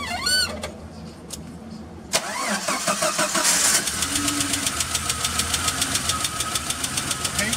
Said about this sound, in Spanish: Estos motores se caracterizan por tardar en el encendido, dan 3 vueltas primero antes de comenzar a encender.